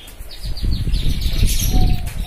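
A young canary about five to six months old sings in a breeding house, high chirps and trills over the flutter of wings and other cage noise, close and fairly loud.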